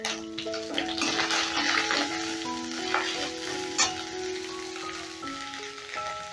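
Asafoetida sizzles in hot oil in a pan with a steady, bright frying hiss and faint crackles throughout, heard under sustained background music.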